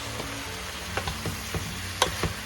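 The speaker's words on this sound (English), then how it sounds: "Give it a little stir." Chicken glass noodle soup with fish sauce just added, stirred in a pot, with a steady low simmering hiss broken by several soft spoon knocks and scrapes over about two seconds.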